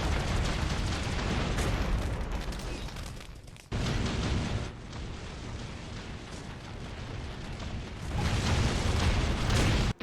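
Ammo dumps blow up in the GI Joe: Rise of the Cobra video game, loud rumbling explosions roaring in long sustained bursts with brief gaps between them.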